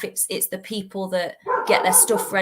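A dog barks and yips several times in quick succession indoors, close and loud, overlapping with a person speaking.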